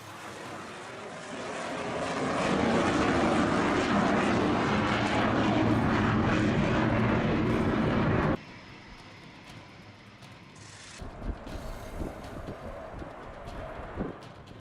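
Fighter and transport aircraft of several air forces fly during the Tarang Shakti 2024 exercise with the Indian Air Force. A loud engine roar builds and holds, then drops suddenly to a fainter, rumbling engine noise.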